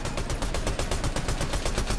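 Rapid gunfire from a Fortnite match, sniper rifle shots, bursts repeatedly in a loud, steady rhythm of sharp cracks over two seconds with no talk.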